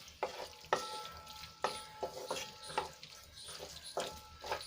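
Pizza masala with tomato sauce is stirred in a pan. Periodic spoon strokes and scrapes sound up close over a quiet, steady sizzle at moderate loudness, with no voices.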